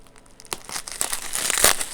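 Bubble wrap packing crinkles and rustles close to the microphone as a tape seam is cut during the unboxing of a 3489 display station, quick crackling bursts building in loudness.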